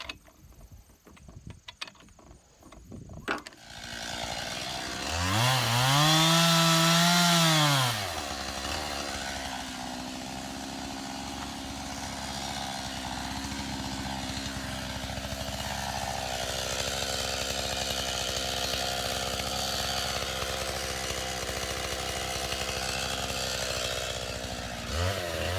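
Chainsaw running through a tree-felling and logging job, with a loud revving burst around six to eight seconds that settles into a steady, sustained engine drone while cutting, close and continuous with no talk over it.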